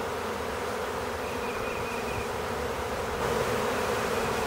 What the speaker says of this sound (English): A lot of bees are coming out of the wall.